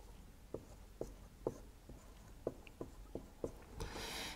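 Pen writing out a maths equation on paper or a board, a series of short scratchy strokes at a steady, uneven rhythm, close and fairly quiet, ending in a brief louder rustle.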